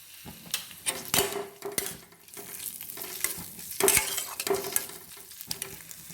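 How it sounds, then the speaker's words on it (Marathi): Onion and green chili sautéing in a pan with turmeric being stirred in, soft sizzling under repeated sharp scrapes and clinks of a spoon against the pan, close and fairly quiet. "इथे कांदा आणि मिरची छान परतून झाली आहे"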